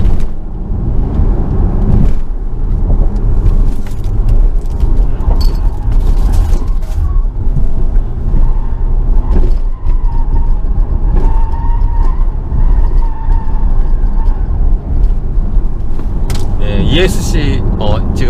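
A Volvo XC90 T6 Inscription drives in ESC sport mode, a loud, steady cabin rumble of engine and road with occasional knocks and clicks. Talk-like sound is present, but no words are made out.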